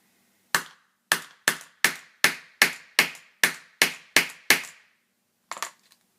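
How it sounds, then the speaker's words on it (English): A hammer taps sharply about ten times in a quick, even rhythm, close and loud, punching through paper clip tags, followed by a brief pause and a couple of softer knocks. "I'm gonna use a hammer"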